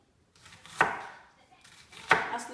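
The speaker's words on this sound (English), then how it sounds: "We can cut our onions into wedges or cubes" A knife chops onions into wedges on a cutting board in a home kitchen, two distinct, sharp cuts spaced apart, close and clear with no talk over them.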